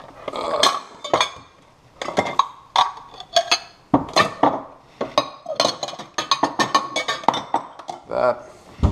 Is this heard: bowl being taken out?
yes